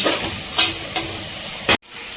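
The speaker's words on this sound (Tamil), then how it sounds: "இந்த வெங்காயம் நல்லா வந்து வதங்கட்டும்" Onions sauté in a pan with salt: a close, steady frying hiss with a few sharp scraping stir strokes, ending in an abrupt cutoff, and no voices.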